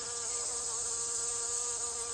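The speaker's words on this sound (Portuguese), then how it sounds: "Um importante grupo de polinizadores é o das moscas das flores." Flower flies hovering in a garden make a steady, close insect buzz that drones on without a break, with no voices.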